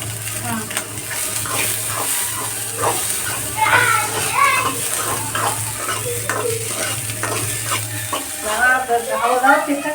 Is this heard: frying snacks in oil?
yes